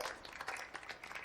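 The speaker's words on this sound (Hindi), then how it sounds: "ओह सर, तालियां बजाई जा रही हैं।" Applause in a film scene, a crowd clapping steadily and fairly close with dense overlapping claps throughout the short stretch, no talk over it.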